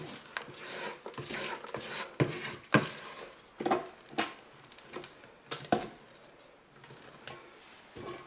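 A spatula scrapes around a bowl of chocolate cake batter as flour is mixed in, giving repeated rasping strokes at an uneven rhythm. The scraping is close and fairly faint, with no talking.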